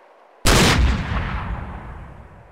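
A single heavy cannon shot from a combat vehicle in the military shooter ArmA 2 ACE: a sudden loud boom with a long rumbling decay trailing away over two seconds.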